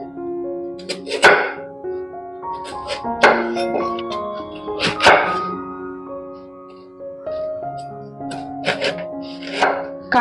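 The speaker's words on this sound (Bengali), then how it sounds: "এখানে আমি গোল গোল করে কেটে নিয়েছি এই দেখুন মোটা মোটা করে" A knife cuts kakrol (spiny gourd) into thick round slices on a board, giving sharp, fairly close chops at an uneven pace over about ten seconds. Several gentle, steady musical tones play underneath.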